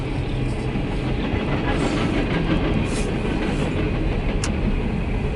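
An empty CSX coal train rolls past on the rails, a dense continuous rumble and rattle of wagons with faint clickety-clack, close and loud throughout and no voices.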